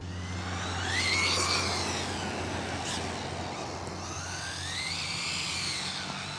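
A Rlaarlo AK 917 brushless carbon-fiber RC car on a 2S LiPo runs around a track, its high whining motor rising and falling in pitch as it passes near and away, with steady broadband noise throughout.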